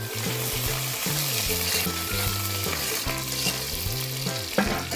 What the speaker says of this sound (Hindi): तेल गर्म हो चुका है, अब इसमें डालेंगे हम